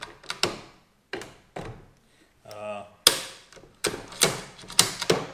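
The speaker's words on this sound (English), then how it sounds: "Make sure you can work the bolt good and hard and you're not tripping anything" Working the bolt on a new Savage rifle gives sharp metallic clacks and ratcheting slides, close and loud, in irregular bursts with a brief rattling in the middle and a quick run of snaps at the end.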